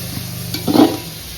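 Food stirs briefly in a hot pan on a gas stove, with a soft sizzle under a scrape and clatter of the spoon. One short, louder stroke lands near the middle of the moment.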